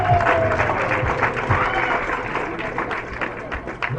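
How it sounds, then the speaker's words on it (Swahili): An audience at a Kenya Society for the Blind event claps steadily, the applause running under a short musical tone and some background voices. "Makofi yao jamani."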